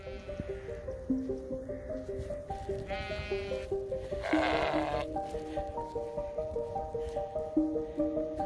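Sheep on a smallholding bleat repeatedly at winter feeding time, several overlapping calls near and far in a steady series, with farmyard rustling beneath and no talk.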